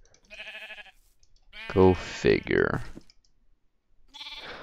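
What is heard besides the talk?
sheep bleating in Minecraft video game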